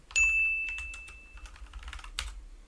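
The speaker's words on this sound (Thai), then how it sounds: "กดจนคีย์บอร์ดแทบพัง" Computer keyboard keys pressed hard and fast while playing Blox Fruits, with clustered close clacks and a bright ding from the game near the start and another burst of typing toward the end.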